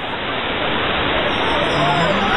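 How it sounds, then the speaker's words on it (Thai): Krung Ching waterfall in Thailand gives off a loud, steady, unbroken roar of falling water, close by and filling the whole moment. "นี่แหละค่ะ น้ำตกกรุงพิง น้ำตกที่สวยที่สุดในประเทศไทยค่ะ"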